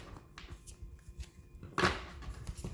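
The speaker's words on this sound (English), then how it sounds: "This is a very sturdy deck, so it is not the easiest to get a good shuffle." A sturdy tarot deck being shuffled by hand, soft quiet riffles and card rustles building to one louder, sharper riffle near the end, close and alone.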